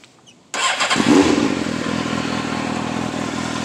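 A 2000 Suzuki GSX-R motorcycle engine cranks and catches abruptly, then settles into a steady, loud, close idle with no one speaking.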